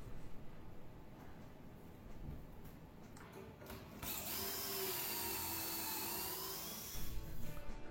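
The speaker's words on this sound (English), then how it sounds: "first we're going to drill the edges" A power drill whirs in short bursts, then settles into a steady high whine boring dowel holes into wooden cabinet edges with a jig, close and loud, with a brief rise near the end.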